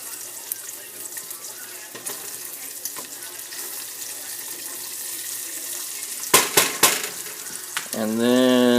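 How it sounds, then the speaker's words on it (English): Bacon sizzling in a pan with vegetable oil, a faint crackle under quiet kitchen noise, broken by a few sharp clatters and then a louder rushing tone near the end. "we got that bacon cooked off here for a couple minutes"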